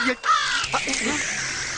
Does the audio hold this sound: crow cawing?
yes